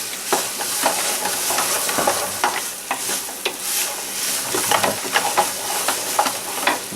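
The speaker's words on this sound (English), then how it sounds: "You want to stir the shit out of it, so if you got chunks of potatoes sticking together, they kind of break up." Potatoes and onions frying in a pan are stirred vigorously, a constant sizzle under repeated scraping and clattering strokes, close and fairly loud with no talk.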